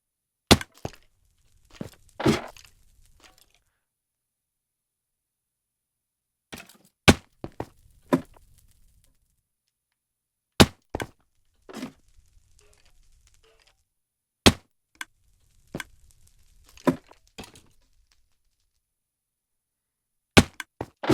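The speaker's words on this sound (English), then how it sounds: "Well, that is the sound of redstone." Sharp, dry clicks of Minecraft redstone in a parkour game, arriving in scattered clusters with long silent gaps between them, clear and close with no voices.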